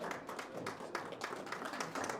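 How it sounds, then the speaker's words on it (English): Faint, scattered clapping from a modest audience welcoming a speaker at an entrepreneurship foundation event, with uneven individual claps rather than a roaring ovation. "A round of applause as we welcome Mrs. Dr. Olu to come forward and give us a few words."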